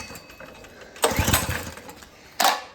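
A small engine is pulled to start, with two short rough bursts of cranking and sputtering that stop quickly, close by and with no talk.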